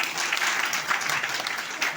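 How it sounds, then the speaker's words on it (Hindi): Audience at an indoor meeting breaks into steady, dense applause, many hands clapping together at close range. "जोरदार ताली डाल दीजिए"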